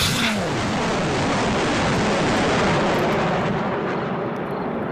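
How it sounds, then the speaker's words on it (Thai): Napalm rockets and heavy bombs dropped by attacking jets pound an island in wave after wave, a loud, continuous roaring rumble of blasts that swells early and stays dense throughout, with no voices. "เสียงจรวดหน้าปามพุ่งทะลวงตัดอากาศดังบาดจิตบาดใจ และกระทบพื้นดังสนัน่น"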